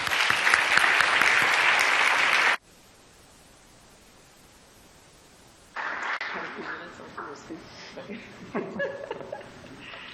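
Brief burst of audience applause welcoming a speaker at a summit, loud dense clapping that cuts off abruptly, followed by near silence, then room sound with scattered laughter and voices.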